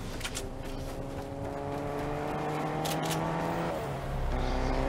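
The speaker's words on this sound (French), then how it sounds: "Il y a une voiture, go go go." A car drives in a Fortnite match, its engine a steady, fairly quiet drone with shifting pitch, swelling a little louder near the end, with no voices.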